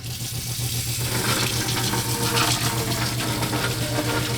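A hot water tap running at full flow from a ThermoMate 11k tankless water heater, a steady loud rushing hiss with a low hum underneath, continuous throughout.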